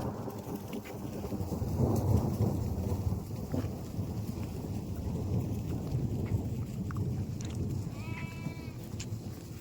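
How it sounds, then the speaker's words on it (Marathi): Heavy rain pours steadily, with deep rumbling thunder rolling beneath it and a few faint, brief sounds that may be farm animals near the end. "कडकडन धडधडा पाऊस मित्रांनो करतोय."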